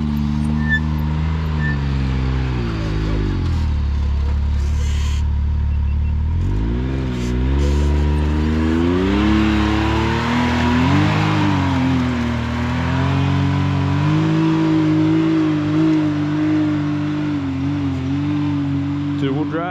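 An off-road vehicle in two-wheel drive churns through thick, clay-like mud at Durhamtown Offroad Park in Union Point, Georgia. Its engine revs loud and close for the whole stretch, its pitch repeatedly climbing and dropping as the throttle surges.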